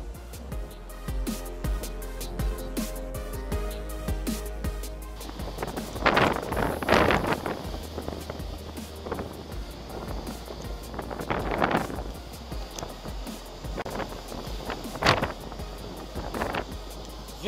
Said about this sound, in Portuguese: Vento muito forte aqui na beira do lago.